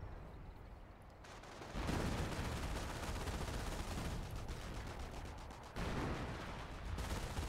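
Artillery fire and gunfire in Company of Heroes rumble as faint, continuous bursts and booms, with heavier salvos starting near two seconds and again near six.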